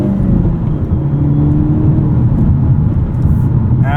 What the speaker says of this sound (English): That is this engine hitting firewall.